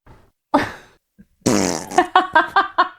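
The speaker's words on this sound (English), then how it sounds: "That was a fart." A fart bursts out loud and close, a long rippling blast followed by several short sputtering pops in quick succession.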